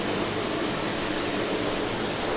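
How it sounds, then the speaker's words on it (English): Steady broadband hiss of water spraying from a shower at an exhibition in Tokyo, continuous and even throughout, close and fairly loud with no voices over it. "It's time for a shower."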